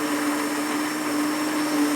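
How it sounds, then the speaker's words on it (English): An immersion blender whirs steadily through a pot of African peanut butter soup, a loud continuous motor hum with a constant pitch that runs alone for about two seconds. "we're going to blend it up with the immersion blender"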